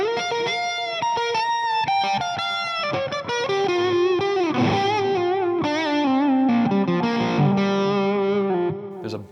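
A distorted electric guitar plays a sustained melodic line with smooth string bends sliding up into notes, steady and loud with effects.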